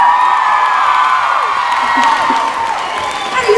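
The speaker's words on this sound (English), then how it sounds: "You'd applaud to anything I say." A concert audience applauds and cheers in a continuous wash of clapping, with whoops and shouts rising over it. The crowd stays loud and close throughout.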